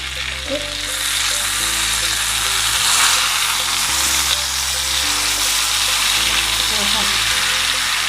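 Pearl spot fish wrapped in banana leaf fries in a pan with a steady, loud sizzle throughout, as a voice talks over the cooking.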